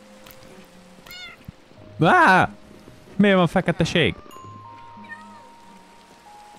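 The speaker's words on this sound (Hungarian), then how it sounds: "Vidd már ezt a büdös macskot!" A cat in Minecraft gives two loud, drawn-out meows a moment apart, the second breaking into several short cries. Soft game ambience continues underneath, and someone speaks briefly between them.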